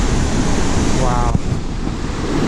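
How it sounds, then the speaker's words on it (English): Rushing river water below an overlook at McConnells Mill, a steady loud broadband roar mixed with gusty wind buffeting the microphone, continuous from start to finish. "That is some moving water."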